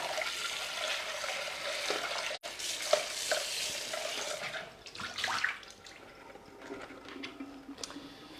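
Water runs from a tap while a Thermomix bowl is rinsed, a steady splashing hiss with clinks of the bowl, easing toward the end.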